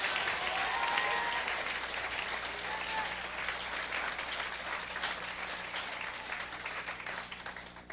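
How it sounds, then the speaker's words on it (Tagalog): Church congregation clapping for the Lord during worship, a dense, sustained wash of many hands applauding together, steady and loud for the whole stretch before easing slightly at the end. "every time we clap our hands for the Lord, it should be the loudest, the best clap offering"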